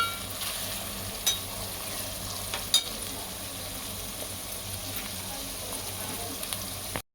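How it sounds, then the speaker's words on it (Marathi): Onion sautéing in hot oil for pav bhaji gives a steady, soft sizzle and crackle, with a few faint clicks of a spoon against the pan and no talk. "छानपैकी कांदा परतून घेऊया लालसर रंगावर"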